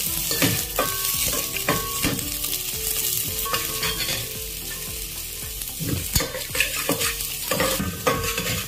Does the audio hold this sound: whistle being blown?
no